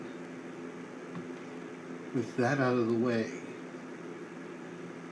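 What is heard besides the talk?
electric fan running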